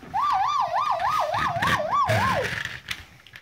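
Close electronic wail of a Lego City toy police car siren rising and falling in quick regular cycles for about two and a half seconds, then cutting off, with some handling noise underneath.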